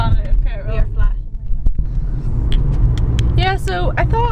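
Car cruising while low on petrol, its engine and road noise forming a steady low rumble beneath people talking and laughing inside the cabin.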